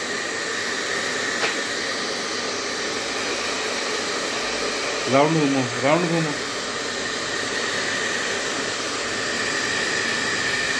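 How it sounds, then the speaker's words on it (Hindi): A hair dryer blows a steady whooshing roar throughout while a young girl gets ready for school, with someone speaking briefly over the constant airflow. "अपने हेयर ड्रायर भी करवा रही है"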